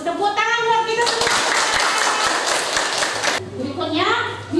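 A classroom group of children claps together for a couple of seconds, bright and close, with children's voices before and after the applause.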